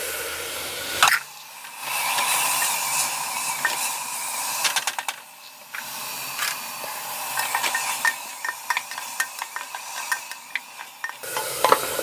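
Cinnamon, cardamom and cloves fry in hot oil with onions in a pan for a chickpea curry, a soft sizzle broken by repeated scraping and clinking stir strokes of a spoon against the pan.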